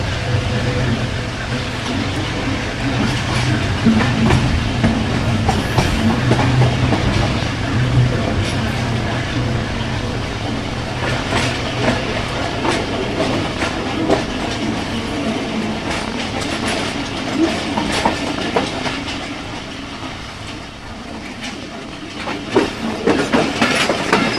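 The Karachi Express pulls into a station in Pakistan with a steady rumble and rhythmic clickety-clack of wheels on rails, loud and close for the whole stretch, as people talk faintly in the background.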